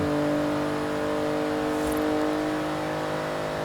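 A 2015 BMW i8 accelerating hard in Forza Horizon 3, a loud, sustained engine drone with steady tonal whine building at high speed, continuous and close with no talking.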